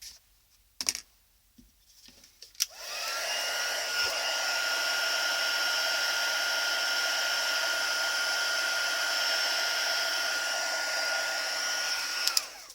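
A craft heat tool blows hot air over heat and stick powder on a card, a constant loud whooshing hum after a few clicks and handling noises at the start, running steadily until it switches off.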